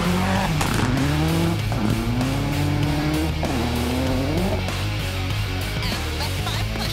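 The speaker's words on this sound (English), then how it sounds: "toine Lestage and co-driver Natalie Richard, driving the Rockstar Mitsubishi Evo." Rockstar Mitsubishi Evo rally car on an all-gravel stage at the Rally of the Tall Pines, its engine loud and close, pitch rising and dipping through gear changes with tire squeal.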